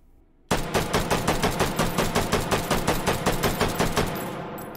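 A P762 battle rifle fitted with a muzzle brake fires in the H3VR virtual reality game, a rapid string of about fifteen loud, evenly spaced sharp shots up close, each punchy crack trailing into the next before fading out.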